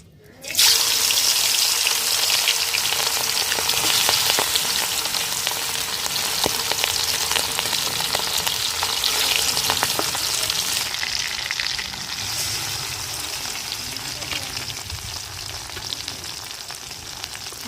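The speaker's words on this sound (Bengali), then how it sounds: "সরিষার তেল গরম হয়ে গেছে, এখন হলুদ লবণ মাখানো মাছ দিয়ে দেব" Hilsa fish rubbed with turmeric and salt hits hot mustard oil with a loud, continuous crackling sizzle that settles slightly quieter after a while, close and alone.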